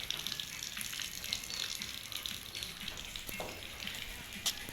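Water running steadily from a hand pump in the rainy season at a market, a continuous splashing gush with light background noise and no talking.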